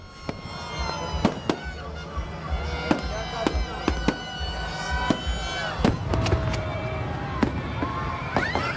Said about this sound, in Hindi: लाहौर और कराची में आतिशबाजी का ज़बरदस्त मुजाहरा।